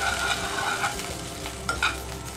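Black cumin seeds fry in hot mustard oil for a raw mango pickle, giving a close, steady sizzling crackle with light stirring clatter and no talk.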